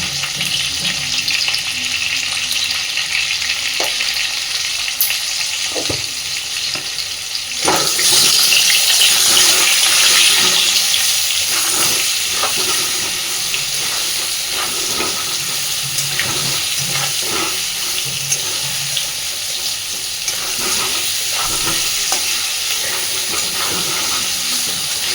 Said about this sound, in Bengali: খুব সুন্দর করে একটু লাল লাল করে আলুগুলোকে এবার একটু ভেজে নেব।